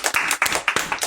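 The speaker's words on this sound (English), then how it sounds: "I think it deserves a round of applause." Audience applause: a short burst of quick, sharp handclaps from a small group, close and steady throughout, with no one speaking.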